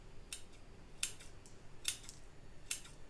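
Four short, crisp scissor snips trim the edges of a sea foam diorama model, evenly spaced about a second apart, close and fairly quiet over a faint background hiss with no talking.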